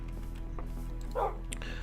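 A pet wolf in a modded Minecraft game gives a short, faint bark and yip over a quiet background hum.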